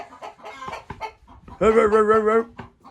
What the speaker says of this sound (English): Here's our cockerel.